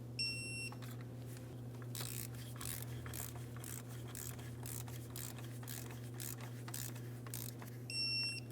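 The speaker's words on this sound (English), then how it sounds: "We're going to torque each of these two mounting bolts directly in the center to 80 inch-pounds." A torque wrench beeps while valve cover bolts are tightened on a 2003-2008 Toyota Matrix 1.8L four-cylinder. A short electronic beep sounds at the start and again at the end, over a steady low hum and faint handling noise.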